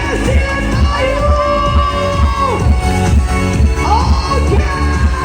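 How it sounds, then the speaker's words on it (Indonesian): A circus audience cheers and shouts in a dense, loud wash of crowd noise that continues steadily, with a voice carrying over it. "Luar biasa, tepuk tangan Desi dan Mayu."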